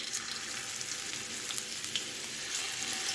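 Meat pieces for a grill-style dish fry in hot oil in a pan, a steady dense sizzle and crackle heard close up with no voices.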